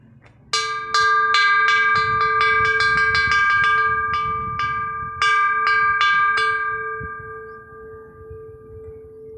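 A temple bell at Wat Khao O in Phatthalung, Thailand, struck repeatedly in an irregular quick series, bright ringing tones overlapping, then a long shimmering decay fading out with no further strikes.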